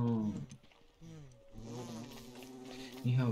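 Bees buzz in Don't Starve Together, a droning hum that wavers in pitch and loudness, dipping briefly before swelling back up close by.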